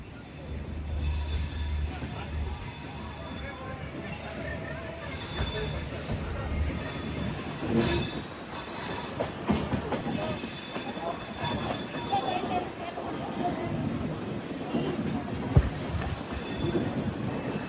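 Train pulling out of Renigunta railway junction on the Tirupati to Chennai route, a steady rumble of rolling wagons with wheel clatter and high squealing, some sharp knocks, and faint voices underneath.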